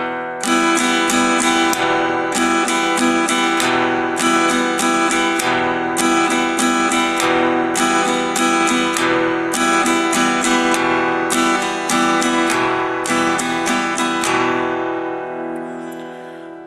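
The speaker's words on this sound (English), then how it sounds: "Played in rhythm, it'll sound something like this in slow form." Acoustic guitar strums chords slowly in a steady down-up pattern. The bursts of strokes repeat evenly for about sixteen seconds with no talking, close and clear, and the last chord fades out.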